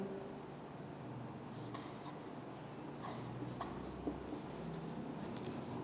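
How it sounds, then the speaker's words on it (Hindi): Chalk or marker writing a formula on a classroom board during a maths lesson, quiet scratchy strokes in short bursts with pauses, faint and close, without speech over it. "सो हम इधर फार्मूला लिखते हैं"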